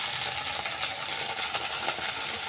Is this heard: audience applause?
no